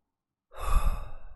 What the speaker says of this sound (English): Just take a couple breaths.